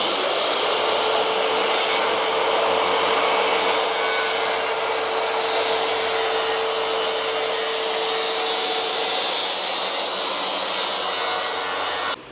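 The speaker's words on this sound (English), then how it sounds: "I've just got to clean up that first joint, which we'll do with this track saw" A track saw cuts a joint in a kitchen benchtop, a loud continuous whining buzz of the blade running steadily through the material for several seconds before it stops abruptly.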